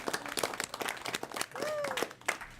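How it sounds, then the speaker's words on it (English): After a unanimous vote, members of a broadband advisory committee give brief, scattered clapping in a meeting room, with a cheerful whoop rising over the uneven claps. "Everybody give yourself a round of applause."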